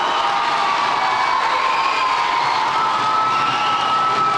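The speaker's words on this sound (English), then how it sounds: "Can we get just one more big round of applause" A school crowd of students cheers, whoops and applauds for the band and chorus, a dense, steady roar that holds at full loudness across the clip.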